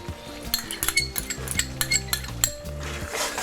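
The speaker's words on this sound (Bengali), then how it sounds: "একটু নেড়ে নিচ্ছি।" Ginger, garlic and chili paste stirred in a pan with a metal utensil, giving close, repeated clinks and scrapes over a soft sizzle, with no talking.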